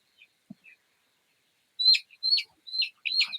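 Chickens at a poultry farm holding about eight hundred birds, heard as a few short, high chirps in a quick run after near silence, moderately close and without talk.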